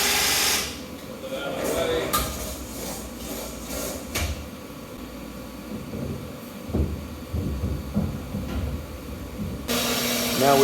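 A bandsaw in a workshop built inside a 53-foot reefer trailer slices through metal tube with a continuous grinding, rasping whine, broken by clanks and knocks of handling, then a louder burst at the end.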